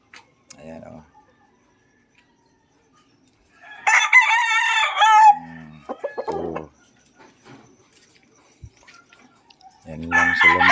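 Gray hatch rooster, an eight-month-old gamecock, crows loudly and close by in two long calls, with a few short clucks and bits of talk in between.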